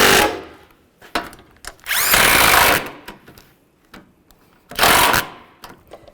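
Nuts and bolts being tightened on the A/C condenser of a 1998-2010 Volkswagen Beetle, with a short ratcheting burst and a second briefer one among scattered clicks and clanks, close by and fairly loud.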